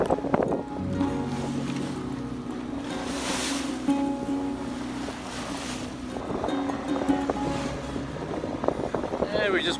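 Sailboat motoring straight into wind and a swell in a strait in British Columbia in winter, with a steady engine drone, wind buffeting the microphone and water sloshing against the hull throughout.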